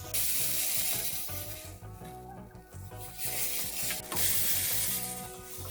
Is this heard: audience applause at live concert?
no